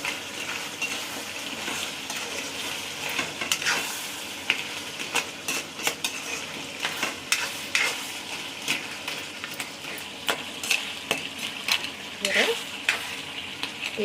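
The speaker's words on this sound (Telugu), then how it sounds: "పీత వేగిపోయింది బాగానే" Crab pieces fry in a hot pan for crab curry, a steady sizzle broken by frequent scraping and knocking as a spatula stirs and turns them, close and moderately loud.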